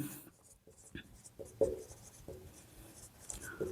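Faint, quick scratching strokes of writing on a board during a Class 10 science lesson on reflection of light, a few short marks coming in bursts while a voice speaks quietly underneath.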